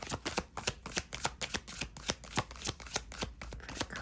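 A Gilded Tarot deck is shuffled up close, a quick run of crisp riffling bursts and card flutters in a steady rhythm with no talking.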